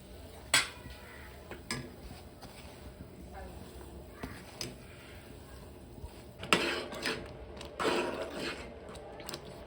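A spoon clinks and scrapes against a metal pot as roasted semolina is stirred into boiling water, with scattered sharp taps over a low background hum.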